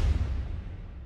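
Orchestral drums with the close microphones pulled out, leaving a distant, roomy boom: one low hit decaying over about a second, alone with no talking.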